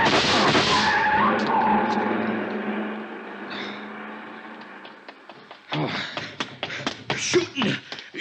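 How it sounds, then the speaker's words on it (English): A car speeding away with tire squeal as a radio drama effect: a loud screech and engine roar fade out, followed by sharp clattering bursts near the end, with talk underneath. "See the car, the one that just gunned out."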